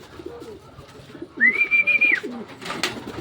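A racing pigeon lands at the loft during a Paete, Laguna to Tarlac race, giving a short upward whistling call amid soft cooing and background bustle, fairly close and moderately loud.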